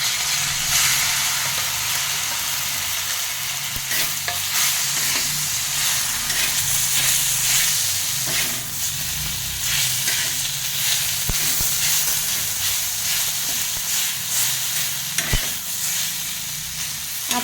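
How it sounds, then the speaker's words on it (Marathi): Mashed eggplant bharit added to hot oil in a pan, sizzling and frying with a constant bright hiss, occasional stirring scrapes and faint clicks heard up close. "आता हे आपण भरीत तेलात घालूया।"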